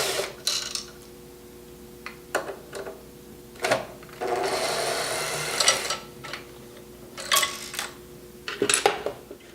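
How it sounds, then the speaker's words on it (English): Two Phillips screws being removed from a metal wire plate with a screwdriver or drill, a short whirring run amid scattered metallic clicks and clinks, close and moderately loud. "with a screwdriver or a drill with a Phillips head number 2, you can take off the 2 Phillips screws"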